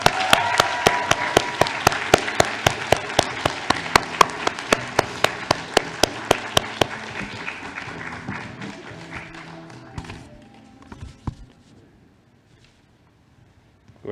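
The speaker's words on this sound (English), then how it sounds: "So please join me in giving a warm round of applause to the winner" Audience at a volunteering awards ceremony claps for the winning team, sharp hand claps that thin out and fade over about ten seconds, leaving near silence with a couple of late thuds.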